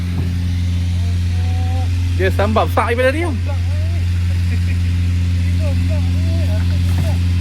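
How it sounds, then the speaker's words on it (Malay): Boat engines running steadily at a fishing spot near river fish cages in Penang, a loud, constant low drone through the whole stretch, with people talking over it. "Kita dah start enjin semua karau habis."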